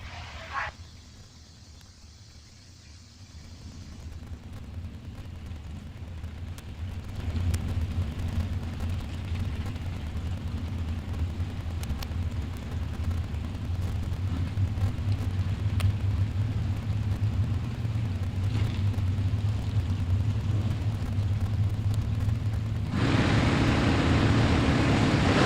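Drag racing cars launch side by side down the strip at Coastal Clash Saturday, a deep, loud engine roar building steadily for about twenty seconds and swelling further near the end, with no talk over it.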